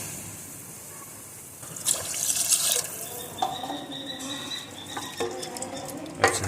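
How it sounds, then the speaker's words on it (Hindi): About two glasses of water pour into a cooking pot holding chicken sautéed with turmeric and black pepper for chicken soup, starting with a loud splash, then gurgling, sizzling patter and a few clinks near the end. "अब इसके अंदर हम तकरीबन 2 गिलास पानी डालेंगे"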